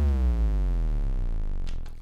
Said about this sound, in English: we have a sub drop that really easily made